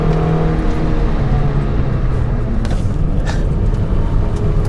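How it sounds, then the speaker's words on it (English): A 2003 Toyota MR2 Spyder mid-engine sports car roars steadily and loudly as it accelerates out of a turn on a winding road, a dense continuous growl close by, with no talking. "you can use the traction from the mid-engine to accelerate quickly out of that turn"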